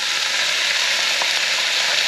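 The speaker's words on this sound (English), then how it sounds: "we're going to add our onions back into it. And I'm also going to add the bean sprouts now" Onions and bean sprouts sizzle steadily in a hot pan for beef lo mein, a close, continuous frying hiss without a break and with no talking.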